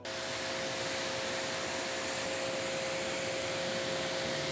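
A sponge washing the ceramic-coated paint of a car makes a steady, close, broadband rubbing and swishing wash with no pauses or voices.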